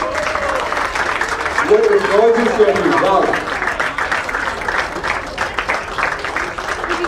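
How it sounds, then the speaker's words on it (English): Audience clapping steadily at the trophy unveiling ceremony of the SFL Football League Season 2, Mumbai and Pune edition, a dense applause wash under a voice speaking loudly over it. "Would you please have a huge round of applause?"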